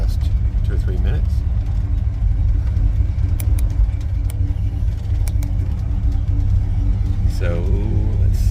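A 1967 Dodge Charger with a 318 V8 and automatic transmission idles steadily, a loud, close, continuous low rumble with someone talking over it.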